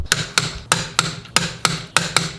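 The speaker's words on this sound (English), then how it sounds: "I'm gonna go ahead and do these guys to about 105 foot-pounds, torque them up" Sharp metallic ratcheting clicks come in a quick regular series, about eight close, loud strikes in two seconds, as a torque wrench tightens vehicle wheel nuts during maintenance.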